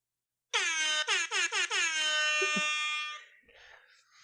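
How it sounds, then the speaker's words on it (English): A loud air horn blares in a few quick stuttering bursts, then holds one long sustained blast before cutting off into faint noise. "Where's the air horn?"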